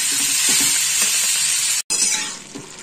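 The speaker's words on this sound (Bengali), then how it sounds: "এবার আমি একটু ঢেকে রেখে দেবো, যাতে জল বেরিয়ে চাল কুমড়োটা নিজের থেকে সেদ্ধ হয়ে যায়।" Ash gourd cooking in a pan, a loud continuous watery sizzle with faint stirring scrapes, cut by a brief silence before the hiss resumes and softens.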